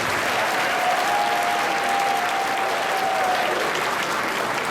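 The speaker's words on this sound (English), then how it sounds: "give all of them a round of applause" Steady, dense applause from a crowd at a fifth grade promotion ceremony fills the whole stretch, loud and continuous, with a faint whistle-like tone drifting over it for a few seconds.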